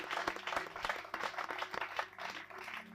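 Audience applause after a talk at a spiritual workshop, fairly faint scattered clapping with distinct individual claps in an uneven rhythm, a few people joining in and out.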